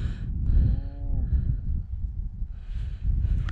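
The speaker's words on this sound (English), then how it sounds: "Jane's not fond of cows." Cows on Dartmoor give a single loud, drawn-out moo close by, with outdoor wind noise and some muffled voices around it.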